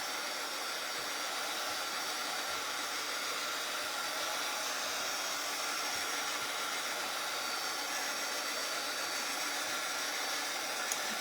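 A hair dryer blows steadily over a painted paper craft of vintage standing Easter bunnies, a continuous airy hiss at even loudness throughout, close and alone with no talking.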